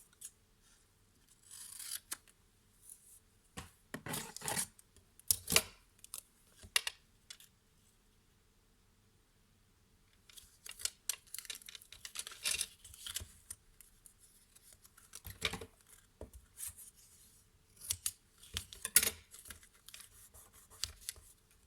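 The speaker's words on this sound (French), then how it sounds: "Faut recouper un petit bout." Scissors snip a small piece of tape in short, quiet bursts of cutting and rustling, with a pause midway and then more snips and handling noises close up, no talking.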